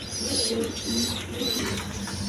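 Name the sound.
pigeons cooing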